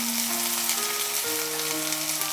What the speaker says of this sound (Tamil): இந்த நேரத்தில் வந்து வெங்காயத்தை உள்ள ஆட் பண்ணிக்கிடலாம்